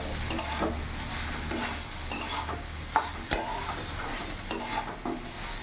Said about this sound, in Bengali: খুব সুন্দর ভাজা ভাজা হয়েছে আর দারুণ গন্ধ বেরিয়ে গেছে রসুনের